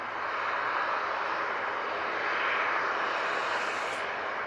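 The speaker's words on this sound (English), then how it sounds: "That's off to Belfast, using the ATR 72. Let's see those props." An ATR 72 turboprop departs from Manchester Airport, its propellers and engines making a steady, broad roar that holds for several seconds with a faint whine emerging near the end.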